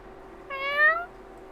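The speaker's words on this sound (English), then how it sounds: "The only response I get is Lee's meow" A cat gives a single clear meow lasting about half a second, rising then falling, alone over a faint steady background hum.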